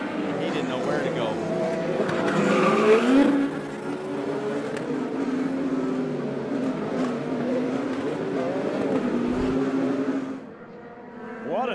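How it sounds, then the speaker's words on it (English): IndyCar race cars scream past at Mid-Ohio during a lap-one multi-car crash at the Honda Indy 200, their engine whine rising and falling under continuous commentary, with the roar dropping away near the end. "Lap one, multi-car crash, James Hinchcliffe, Ryan Hutter-Reay, Romain"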